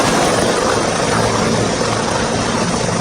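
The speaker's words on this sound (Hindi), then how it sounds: "योगी का हेलीकॉप्टर गोरखपुर में हेलीपैड पर सर्किट हाउस में लैंड हुआ।" Helicopter landing on a helipad at a circuit house in Gorakhpur, a loud, dense, continuous rotor and engine roar that fills the whole clip without a break.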